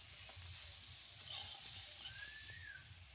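Fish curry with salt and ridge gourd is stirred in a pan, giving a soft, continuous sizzle with light scraping strokes. The sound is quiet and close, with no talking.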